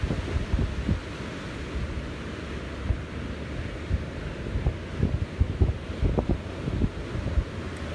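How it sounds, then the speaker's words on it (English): Waves roll and break repeatedly against a shore, with low rumbling surf and gusty wind buffeting the microphone; no voices. "Those rolling waves are just beautiful."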